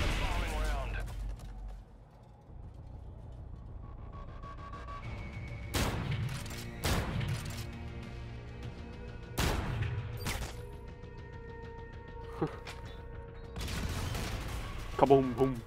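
Gunfire in Call of Duty: Infinite Warfare comes as several sharp separate shots and short bursts spread across the moment, with people talking and quiet gaps between the shots.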